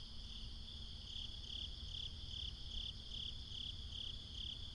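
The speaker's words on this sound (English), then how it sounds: "Can you hear the crickets?" Crickets chirp steadily at night on a road trip, a quiet, even pulsing trill that repeats about twice a second over a low background hum, with no one speaking.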